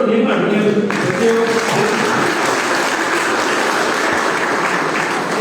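Loud, sustained applause from a large crowd for a student prize winner at a school result and prize distribution ceremony, starting after a brief voice and continuing as a dense, even roar of clapping.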